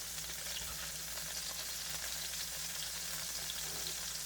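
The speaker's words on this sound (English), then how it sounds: "So right now, we're going to add in a little half a stick of butter." Half a stick of butter sizzles and fries in a pan while garlic pork chops cook. The hiss is dense and continuous, steady in loudness and close, with no talking.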